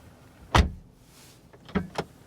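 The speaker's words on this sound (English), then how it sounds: "Alright, so let's close the doors here." Doors of a 2025 Mercedes-AMG A35 being shut: one solid, loud thud near the start, then two quicker, lighter closing thumps about a second later, heard close up with no talking.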